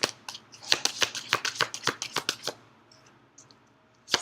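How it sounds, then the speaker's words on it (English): Tarot cards being shuffled by hand, a quick close run of crisp riffling flicks that fades to quiet before one last flick. "I'm going to pull a couple crowning cards here."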